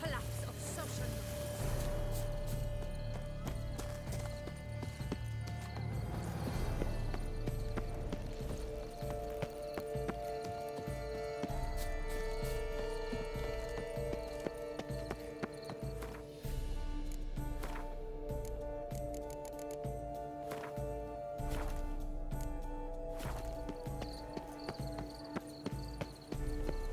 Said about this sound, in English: Be better off on horseback.